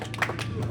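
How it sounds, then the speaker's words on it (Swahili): Crowd applause for Maraga at a UGM party rally launching its Busia branch office during the Ukatiba Caravan, a short burst of clapping with a low hum underneath. "Haya, makofi mzuri ya Maraga."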